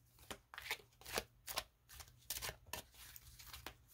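Tarot cards are shuffled by hand in a run of quick riffling bursts, about eight crisp flutters spaced unevenly and heard up close and fairly quiet, with no speech.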